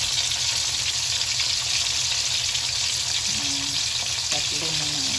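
Tuna sticks fry in a pan with a steady, close sizzle throughout, broken by a few faint scraping and clinking sounds near the end.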